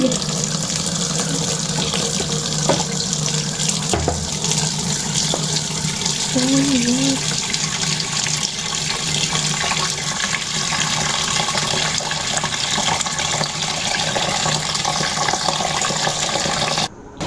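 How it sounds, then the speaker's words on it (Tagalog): Tap water runs steadily into a pot while filling for cooking outdoors, a continuous hissing gush holding for about seventeen seconds before stopping abruptly at the end. "tayo po ay maglalagay na po ng tubig."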